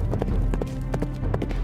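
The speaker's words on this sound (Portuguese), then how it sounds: "Meus cavalos! Eles escaparam!" Toy horses in a play scene represented by a clip-clop hoofbeat effect, a fairly loud, quick irregular clatter of hooves running throughout, with no voices over it.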